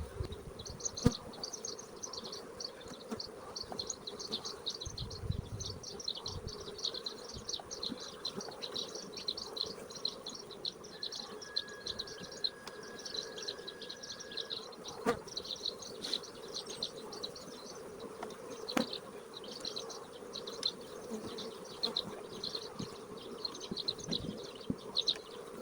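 A honeybee colony humming at the hive, a dense steady buzz with individual bees droning past close by, continuous and fairly quiet with no talk.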